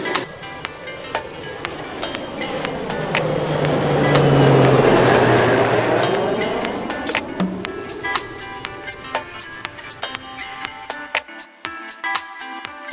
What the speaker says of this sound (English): riding the Tokyo metro system